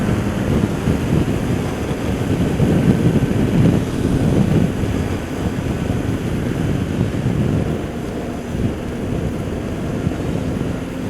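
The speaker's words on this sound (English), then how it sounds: "this is the motorway part of my ride now." Steady, heavy wind roar of a Yamaha TMAX scooter ridden at speed on a motorway, a continuous low buffeting rush with no talking.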